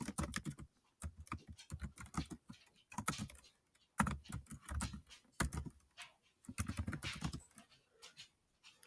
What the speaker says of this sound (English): I type, it waits.